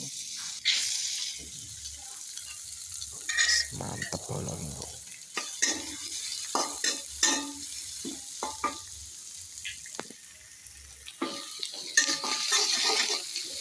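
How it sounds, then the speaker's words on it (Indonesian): Oil sizzles in a pan as spices fry for nasi goreng, while a utensil stirs and scrapes repeatedly, with a voice speaking briefly over the cooking. "Goreng bumbune."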